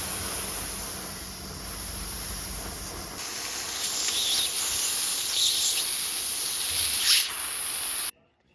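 Steady high-pressure steam hisses from a homemade thermal plant, a bright continuous rush that grows a little louder and harsher midway, with brief surges before cutting off abruptly near the end.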